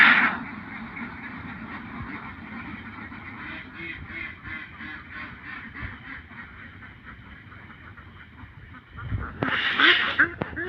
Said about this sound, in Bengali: অনেকগুলো হাঁস আছে।